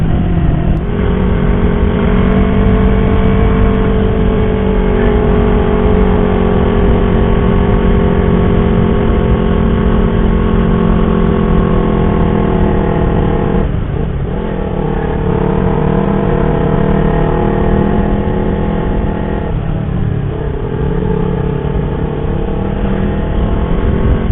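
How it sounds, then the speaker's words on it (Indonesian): Motorcycle engine braking on a downhill mountain road toward Dieng, a loud, steady engine drone with wind rush and brief dips in pitch, no talking. "sambil dibantu engine brake untuk nahan laju kendaraan turun"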